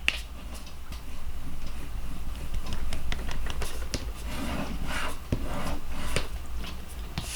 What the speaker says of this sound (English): So first thing I'm going to do is go ahead and fold and burnish.